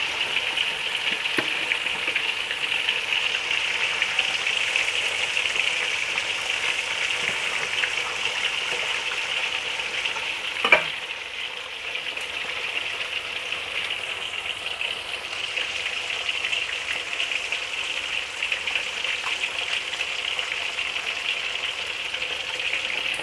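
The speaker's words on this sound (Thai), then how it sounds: "อันนี้เราทอดสองปลานะคะ มีปลาดุกแดดเดียวกับปลานิลแดดเดียวค่ะ" Sun-dried catfish and tilapia frying in hot oil, a loud continuous bubbling hiss that holds steady throughout, with one brief knock partway through.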